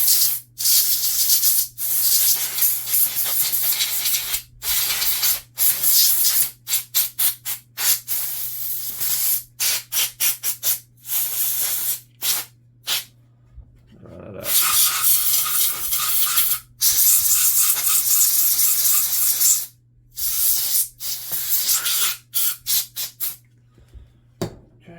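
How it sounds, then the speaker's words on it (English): Short hissing bursts of compressed air spray while a Glock pistol is cleaned, repeated in rapid irregular blasts with a few longer sustained gusts, loud and close, with a low steady hum underneath. "I take some compressed air, use air compressor if you got one."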